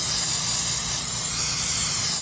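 One continuous burst of olive oil aerosol spray over tomato slices for an air fryer, a loud, close hiss that runs for about two seconds and cuts off abruptly.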